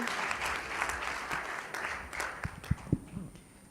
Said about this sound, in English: please clap for Salimatu